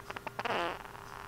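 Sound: cartoon fart sound effect

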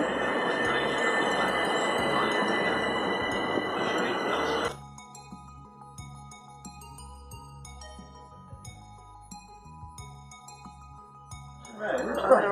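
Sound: train approaching railway platform

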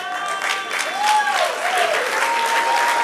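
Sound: church congregation applauding

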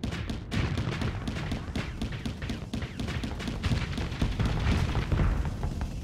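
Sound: spaceship rockets firing, Starsector video game

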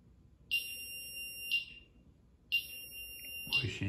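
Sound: Somfy alarm keypad beeping

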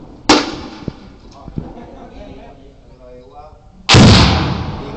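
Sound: M79 grenade launcher firing at target

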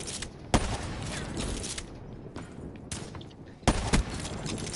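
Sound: gunfire in Black Ops 3 video game

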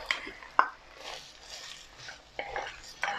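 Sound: stirring tomato into sweated onion in a pan

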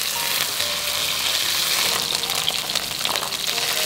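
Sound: Murray cod fish pan-frying in oil

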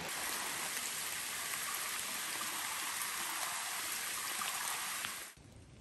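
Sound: rain on the trail

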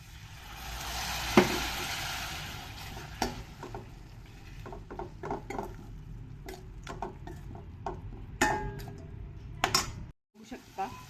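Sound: masala roasting and frying in a pan with water

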